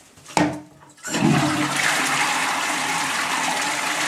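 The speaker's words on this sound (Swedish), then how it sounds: "Kan du spola också?" A toilet flushes, starting with a short click of the handle, then a loud, steady rush of water that keeps gushing without a break, close up and with no voices.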